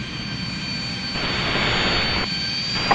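Private jet at Scottsdale Executive Airport, a steady, loud engine roar that swells slightly midway and holds throughout, heard alone without talk.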